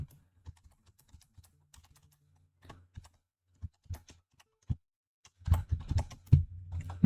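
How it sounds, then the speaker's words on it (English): Computer keyboard typing while coding HTML: sparse, quiet, separate keystrokes with pauses, then a faster, louder burst of clicks near the end, close and with no voices. "doing some typing."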